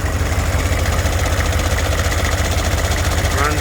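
A 6.5 turbo diesel truck engine idling with a bad exhaust leak, giving a loud, steady, rapid low chugging and ticking pulse that runs evenly from start to finish, with no talking.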